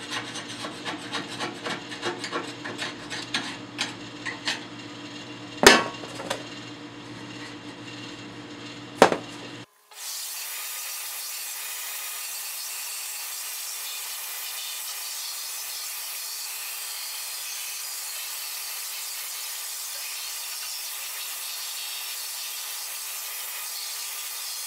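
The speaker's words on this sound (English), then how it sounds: "it's hard to get off with your scraper that came with the stove, just use a screwdriver," A flat-tip screwdriver scrapes the burn pot of a Harman P-series pellet stove, making close, gritty rasping strokes with a couple of sharp knocks. The scraping cuts off abruptly into a steady hiss.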